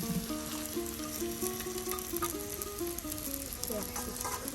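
Fish fries with potatoes in a village Bengali kitchen, giving a loud, steady, dense sizzle with a melodic tone running over it.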